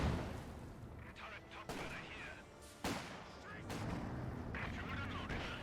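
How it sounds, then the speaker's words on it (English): Calliope rocket artillery fires in a Company of Heroes battle, with sharp, booming bursts landing among rumbling gunfire while a commentator talks over the action. "Sniper gets a warm welcome there from the Calliope, but no hit."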